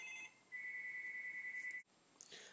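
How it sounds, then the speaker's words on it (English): A faint electronic phone ringtone, likely an iPhone 3GS, plays a steady sustained tone for over a second before cutting off, followed by a brief high chirp in a quiet indoor room. "I just got a phone call"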